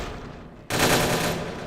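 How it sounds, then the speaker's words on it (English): Rapid automatic gunfire from the VtM Bloodlines video game erupts suddenly after a low background hum, a loud continuous burst of shots as characters fire on each other. "and they start shooting each other"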